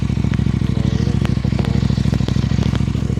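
A KTM 990 RCR motorcycle engine with the slip-on exhaust removed, revved up close, giving a loud, throbbing, pulsing drone with a few sharp blips of rising throttle and no one speaking.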